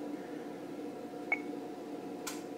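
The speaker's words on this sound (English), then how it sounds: "Look, beep," A shed's light switch control system gives a single short, faint electronic beep against a steady low hum, followed later by a brief soft click-like burst.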